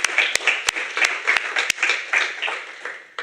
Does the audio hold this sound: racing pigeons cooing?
no